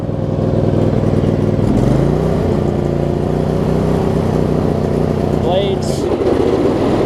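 A John Deere LX279 lawn tractor engine, just valve-adjusted, runs steadily and then throttles up to a higher, even drone that holds loud and close for several seconds.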